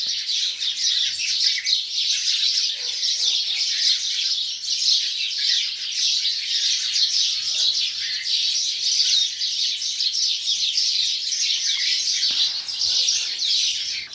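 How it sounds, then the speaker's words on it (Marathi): Sparrows chirp and twitter continuously in a dense, lively chorus throughout an early morning of thick fog, loud and near, with no other sound standing out. "चिमण्यांचा चिवचिवाट कलकलाट"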